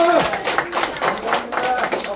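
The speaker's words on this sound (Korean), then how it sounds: "그래서 박수 박수 박수" Members of a hometown association meeting break into short, brisk clapping in a room, mixed with voices talking over it.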